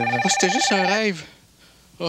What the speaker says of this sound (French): Et ça, c'est le téléphone.